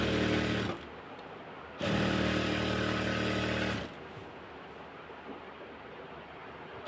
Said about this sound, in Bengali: মিলিয়ে যে সেলাই শুরু করলাম।